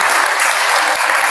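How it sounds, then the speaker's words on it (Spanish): Audience applause at a world poetry festival tribute, a dense, loud, continuous patter of many hands clapping throughout. "Un aplauso para ellos."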